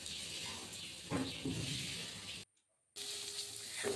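Pointed gourd (potol) fries in oil, a faint, close sizzle with soft crackles that stops for a moment of silence and then resumes.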